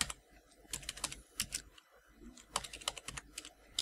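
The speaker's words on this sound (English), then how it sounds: "Sorry if you can hear my keyboard" Rapid clattering keystrokes on a computer keyboard, coming in uneven bursts with brief pauses, close up and fairly quiet.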